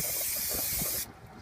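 Brake cleaner sprayed in a steady, loud aerosol hiss onto new brake parts for a Subaru Legacy GT, running continuously for about a second before cutting off abruptly, leaving a faint background.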